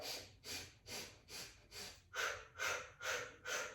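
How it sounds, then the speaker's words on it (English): Rhythmic breathing during the Pilates hundred breaths exercise: eight steady, forceful breath pulses about half a second apart, close and clear, growing a little stronger halfway through, with no talking. "We're going to do 100 breaths."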